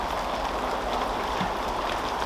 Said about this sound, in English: It's not spitting, it's now chucking it down rain.